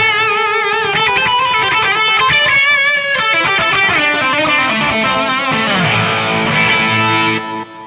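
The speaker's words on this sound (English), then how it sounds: "this is my basic solo tone, which switches in a bit more gain and" A distorted electric guitar solo tone through a G-System effects unit, with extra gain and a long delay, plays a continuous flowing run of sustained notes whose echoes trail behind, loud and alone without talk.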